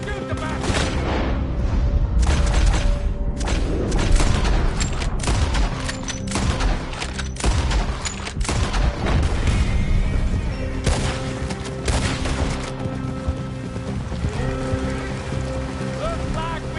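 Gunfire in a Red Dead Redemption 2 shootout by a river, a dense fusillade of repeated shots and booms over rushing water, loud and continuous for the whole stretch, with voices calling out beneath it.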